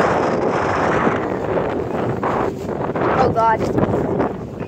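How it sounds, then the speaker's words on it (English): Strong wind buffets the microphone in loud, roaring gusts, with a person briefly exclaiming over the rushing noise. "it's so windy out here, it's pulling me away"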